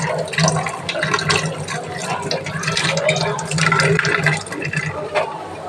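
Tap water runs steadily while green chillies and coriander leaves are rinsed under it, a continuous close splashing wash with no speech over it.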